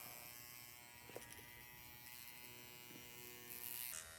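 A Dr Pen M8s micro-needling pen hums with a faint, steady electric buzz at its lowest speed setting against skin, continuous and quiet with a brief rise near the end.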